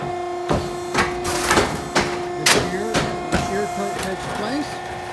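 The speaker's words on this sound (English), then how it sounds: "Turned on the hydraulics, so now you hear the hydraulics running." Hydraulic coil line machine running with a steady mains-like hum, broken by repeated sharp metallic clanks from end notching and a small end bend, roughly one strike per second, fairly close and loud.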